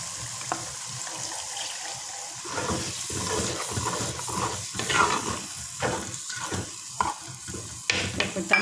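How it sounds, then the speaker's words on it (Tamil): Tamarind water pours into a hot pan of sardine curry masala, setting off steady sizzling and bubbling with some stirring, close and fairly quiet, no voices. "இப்போ புளி தண்ணியை ஊற்றுறேன்."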